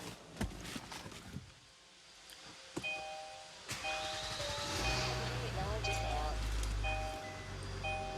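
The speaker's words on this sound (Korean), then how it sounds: "시동 한번 걸어볼게요" A Kia Mohave 4WD cranks and starts amid chiming cabin alert tones, then settles into a steady low idle rumble that continues to the end.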